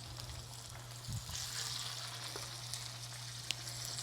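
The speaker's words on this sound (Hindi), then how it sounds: "अब इसमें हमने डालना है टिकिया।" Burger patties (tikki) frying in a preheated pan give a steady, moderately quiet sizzle with faint crackles and one sharp pop, heard alone without talking.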